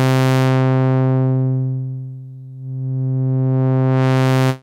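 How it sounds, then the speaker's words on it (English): A sustained synth tone in Reason's Europa synthesizer swept through a low-pass filter, its bright upper harmonics closing down to a dull, muffled core midway, then opening back to full brightness before stopping. "The next filter mode that we have is the low-pass filter"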